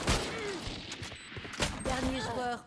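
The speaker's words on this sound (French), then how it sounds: "Sur les 20 balles, il n'y en a pas une seule qui l'a touché." Bursts of gunfire in Valorant, several sharp shots scattered across the stretch with a voice talking over them.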